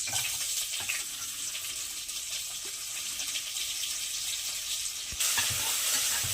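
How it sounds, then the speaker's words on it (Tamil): Onions for chicken biryani sautéing in a pan, a soft, continuous close sizzle and hiss with a few faint clinks, quiet, without speech. "வெங்காயத்தை நல்லா கோல்டன் ப்ரௌன் கலருக்கு வதக்கிக்கிறணும்"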